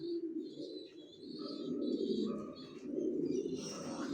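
Racing pigeons of Johnson line kept in a breeding loft, close, soft repeated low cooing in overlapping rolling phrases, with faint chirps above and no voices.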